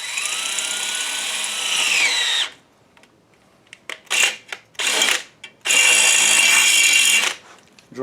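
A 3/16 drill bit bores a hole for mounting a Triumph Scrambler motorcycle fender, a steady whining run of about two seconds, a pause with a few short bursts, then a second longer steady drilling run, loud and close.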